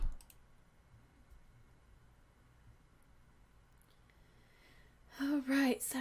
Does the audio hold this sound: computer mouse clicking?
yes